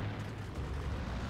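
A bomb explosion in World of Tanks, a dense, rumbling blast that fills the whole short moment at steady loudness.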